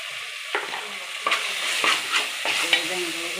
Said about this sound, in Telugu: ఈ విధంగా వేగుతూ ఉంది.